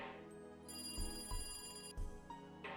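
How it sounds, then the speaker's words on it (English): A telephone ringing on a desk in the visual novel Higurashi, a faint electronic ring tone in repeated bursts over soft background music. "Phone on the desk rang."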